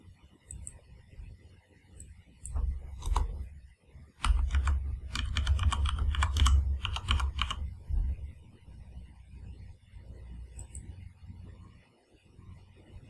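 A password being typed on a computer keyboard, with soft scattered key clicks at first, then a denser burst of quick typing in the middle, before tapering to a few isolated taps, faint and close.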